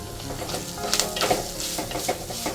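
Grated coconut and a sprig of curry leaves frying in coconut oil, a continuous close sizzle and crackle broken by scraping stirs and occasional clinks of a spoon against the pan.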